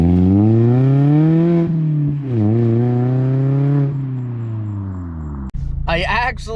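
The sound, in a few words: Mazda Miata ND exhaust revving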